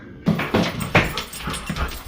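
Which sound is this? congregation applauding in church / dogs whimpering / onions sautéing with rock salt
dogs whimpering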